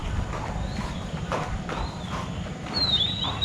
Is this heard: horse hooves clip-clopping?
yes